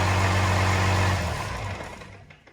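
A truck's DT360 diesel engine idles steadily with a low rumble, then winds down and fades as it shuts off.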